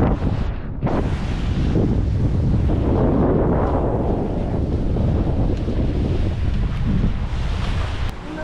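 Strong wind roars across a sailboat making about 6.5 knots in 14 to 15 knot winds between Caribbean islands, with loud gusty buffeting and surf washing close by throughout, with no voices.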